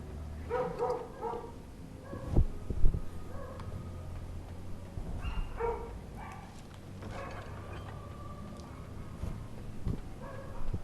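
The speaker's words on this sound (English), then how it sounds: "don't you fucking love when they bark at nothing and everything at the same time?" Dogs barking in the video game Dragon Age, repeated bursts of barks and yips scattered over a low game background rumble, at moderate distance.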